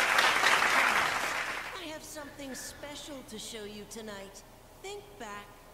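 A burst of clapping fades out over the first two seconds, then people start talking.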